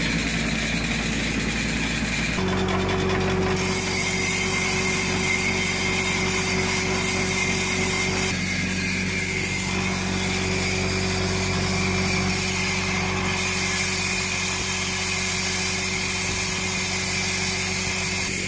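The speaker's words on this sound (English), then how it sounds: "That will allow those reels to spin backwards" Reels on a Jacobsen/Toro gang mower spin backwards during backlapping, producing a continuous loud engine-driven drone with a steady hum and gritty whir that shifts in tone partway through, no talk.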